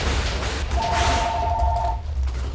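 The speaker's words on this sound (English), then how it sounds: "And that's my phone." A phone rings during a Minecraft session: a single steady electronic ring tone rises for about a second over a low background rumble, moderately loud and close.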